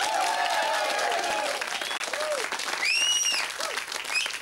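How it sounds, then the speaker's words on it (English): Studio audience applause on a 1995 TV talk show, a full burst of clapping with brief whistling tones rising over it partway through. "You can clap. Clap Noah, please."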